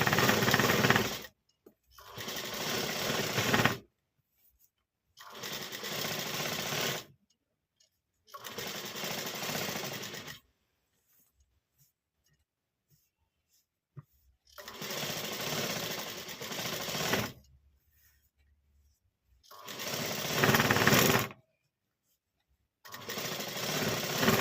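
A sewing machine stitches the sleeves of a ready-made top during an alteration, running in five loud, fast buzzing bursts of a few seconds each, separated by silent pauses.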